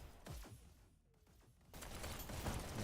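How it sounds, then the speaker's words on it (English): Rapid gunfire hitting the floor in the VR shooter game Hyper Dash, a dense crackling fusillade that eases briefly and then swells back, loud and continuous with no voices. "Mr. Toffee shooting the floor again"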